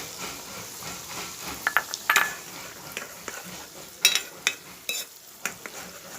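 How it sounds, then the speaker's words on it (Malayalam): Slow stirring of homemade hair oil in a pan over a low flame, scattered scrapes and light metallic clinks over a faint sizzle, close and fairly quiet, with uneven bursts of activity. "അതുവരെ ഞാനൊന്ന് ചെറിയ തീയിൽ ഇളക്കട്ടെ"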